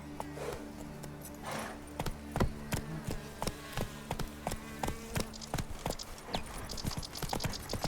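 Rhythmic clip-clop of a horse's hooves in The Witcher 3: Wild Hunt video game, a steady trotting beat of sharp hoof strikes, fairly quiet and without speech.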